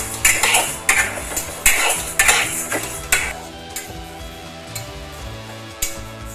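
Mung dal is dry roasted in a wok, with rattling, scraping strokes of a metal spatula that are loud at first and then fade to sparse light taps.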